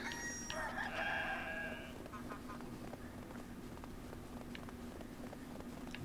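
Chickens in a farming video game cluck and crow in a brief burst at the start, then a faint steady hum continues with scattered small clicks.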